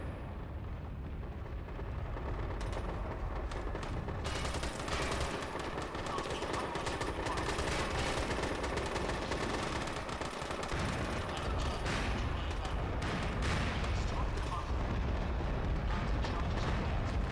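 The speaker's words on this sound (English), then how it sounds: "So now that they've managed to destroy that bunker" Battlefield combat in the video game MAG as a bunker is destroyed: a dense, continuous din of explosions and rapid gunfire, with faint voices mixed in.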